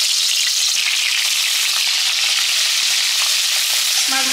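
Fish pieces coated in salt and turmeric frying in hot oil, a loud, steady close-up sizzle that crackles without pause and has no talking over it.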